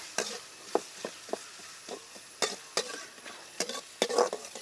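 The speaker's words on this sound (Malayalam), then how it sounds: "ഈ ഉള്ളിയുടെ കൂടെ തന്നെ നമുക്ക് അരിഞ്ഞു വെച്ച രണ്ട് പച്ചമുളകും കൂടി ഇട്ട് കൊടുക്കാം ഇത് ഇനി നന്നായിട്ട് ഇളക്കി ഒന്ന് വയണ്ട് വരട്ടെ" Onion and green chillies fry in a pan while a spoon stirs them, making a quiet sizzle broken by a dozen or so irregular clicks and scrapes against the metal.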